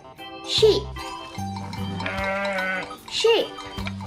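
Sheep bleat in short wavering calls near and clear, with a longer quavering bleat in the middle and another brief cry at the end, separated by quiet gaps.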